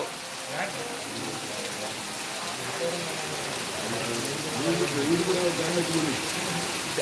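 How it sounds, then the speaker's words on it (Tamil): Heavy rain pouring down in a dense, steady hiss, close and continuous, with a faint voice murmuring underneath. "நல்லா மழை பெய்துட்டு இருக்கு ப்ரோ"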